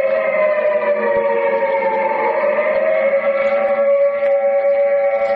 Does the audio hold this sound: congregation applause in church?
no